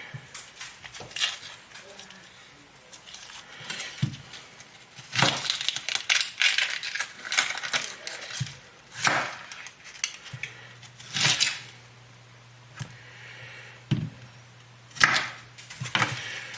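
A knife cutting through an onion on a cutting board while making beef stew, several sharp crunchy chops and board knocks spread apart, with a person talking between them.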